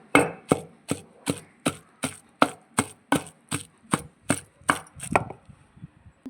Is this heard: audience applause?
no